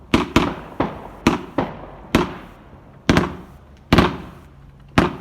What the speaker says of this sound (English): Guys, this is my firework.